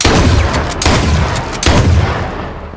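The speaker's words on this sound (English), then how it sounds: "I got shot" Close, loud gunshots in a first-person shooter game, a couple of sharp cracks over a dense, rumbling backdrop of game noise, with no voices.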